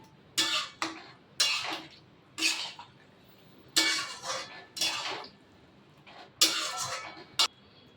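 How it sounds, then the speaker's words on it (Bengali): A spoon working spice paste into shukto in a metal pan, with bursts of scraping and clinking in uneven strokes, close up and with no talking. "এই যে মশলাটা বানিয়ে রেখেছি এইটাই আসল এটা দিয়ে দিলাম এটা একটু মিশিয়ে নেবো"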